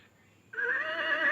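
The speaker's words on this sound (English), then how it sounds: "This is the black horse." A recorded horse neigh plays from a Chicco Talking Farm House toy. The single whinny is close and loud and starts abruptly after a brief quiet moment.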